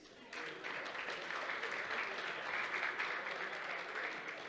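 Audience applause fills a conference hall during a real-estate financing session, steady dense clapping starting abruptly after a brief quiet moment and holding at an even level throughout.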